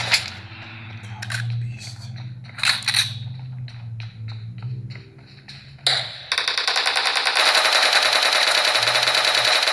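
Gunfire from PUBG Mobile or Call of Duty Mobile played on a Galaxy S21 Ultra: scattered single shots and short bursts give way to a loud, sustained rapid-fire machine-gun stream.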